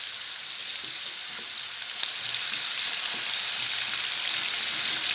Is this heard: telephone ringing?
no